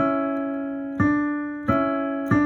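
A held keyboard chord rings, then three more chords are struck in turn, each sounding clear and sustained as the two voices move to a close.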